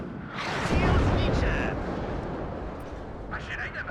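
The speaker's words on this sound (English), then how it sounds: "Oh, the artillery coming in there is perfect." Artillery shells landing in the WARNO strategy game, a loud rumbling barrage of explosions that swells early and then settles into a sustained roar, with a smaller crack near the end.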